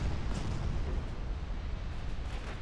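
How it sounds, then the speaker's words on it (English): Torpedo impacts on warships in the naval strategy game Ultimate Admiral: Dreadnoughts, heard as a dense rumbling, booming roar of explosions, continuous and heavy without distinct separate blasts, no talking. "Here come my torpedoes."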